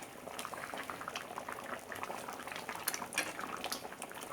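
A homestyle brinjal curry bubbling in a pot, a steady soft boil with dense small pops and gurgles, fairly quiet and close, without any talk.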